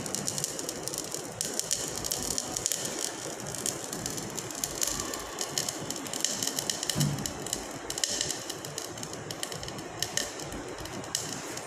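A heated salt decrepitating, giving off steady crackling and popping with dense, irregular ticks and rattles that stay fairly loud and continuous throughout.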